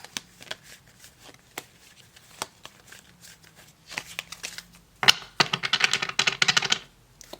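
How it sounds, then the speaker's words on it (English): Tarot cards are handled up close: soft taps and slides at first, then a dense riffle shuffle near the end with a quick flurry of flapping card edges. "Let me just rearrange the cards."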